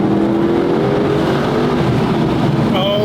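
A Mercedes with factory exhaust and a roughly 580-horsepower naturally aspirated engine accelerates hard, a loud sustained engine roar with rising tone heard from inside the car.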